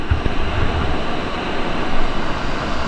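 Strong current of the Bagsit River, a steady, full rushing wash of flowing water heard up close with no talking.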